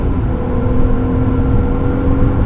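A stock 1997 BMW E36 M3 engine roars steadily at high revs at full throttle, a dense continuous drone filling the whole clip with no voices.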